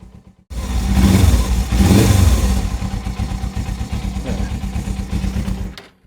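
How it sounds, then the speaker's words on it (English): Suzuki GS 500 motorcycle engine starting and running close by, with two loud revs early on that settle into a steady, rhythmic idle pulsing until it cuts off near the end. "It's actually starting to tick over quite nicely now."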